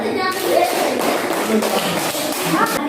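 Students in a classroom clap for their group's results, a brief scattered round of hands with children's voices and some thumps mixed in, fairly close.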